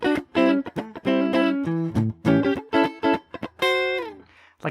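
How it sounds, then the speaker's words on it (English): Electric guitar played with palm muting through reverb, a series of short chugging notes and choppy phrases in uneven rhythm, each clipped then ringing briefly into a reverb tail, played alone with no voices. "I'm palm muting through all of that."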